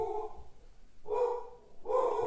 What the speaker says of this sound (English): my dog is barking. Why is my dog barking?